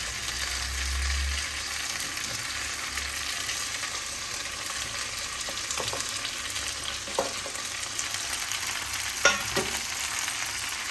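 Tomato and drumstick sautéing in a pan for Tamil fish curry, with a continuous close sizzle and a few distinct stirring clanks and scrapes toward the end, and no voices.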